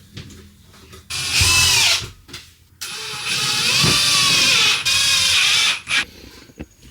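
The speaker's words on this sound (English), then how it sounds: "So I'm going to screw these pieces in here, secure them down" A power drill drives screws into wood pieces, securing them down for a mattress stop inside an RV, in two loud bursts of high whining motor with a short pause between and a trailing quieter spin.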